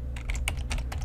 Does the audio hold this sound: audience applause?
no